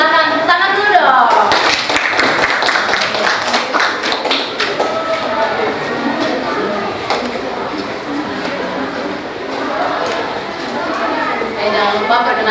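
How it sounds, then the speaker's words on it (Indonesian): A classroom of students claps for a group presentation, a lively burst of many hands at the start that carries on beneath children's chatter and talking. "Silahkan tepuk tangan dulu dong."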